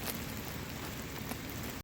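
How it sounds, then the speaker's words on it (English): Heavy rain pours down steadily, a dense close hiss of drops hitting surfaces that stays even throughout before cutting off abruptly. "now it's really pouring on me,"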